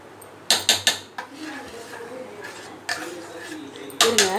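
A spoon clinks sharply against a bowl while rice paste is mixed with raw milk, a quick burst of metallic taps at the start, softer stirring in between, and more clinks near the end, with brief vocal sounds.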